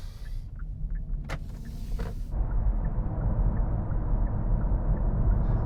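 Hyundai Ioniq 38 electric car pulling onto a motorway, heard from inside the cabin: after a few light clicks and a short burst of noise, the low road and tyre rumble rises and holds steady.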